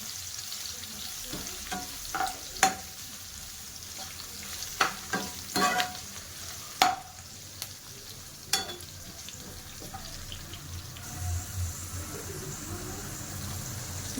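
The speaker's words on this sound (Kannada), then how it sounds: "ನೀವು ಸ್ವಲ್ಪ ಕೆಂಪು ಬಣ್ಣ ಬರೋವರೆಗೂ ಫ್ರೈ ಮಾಡ್ಕೊಳ್ಳಿ" Frying in a pan for dal until reddish gives a low continuous sizzle, broken by scattered sharp spatula taps and scrapes, then settling into a quieter bubbling fry.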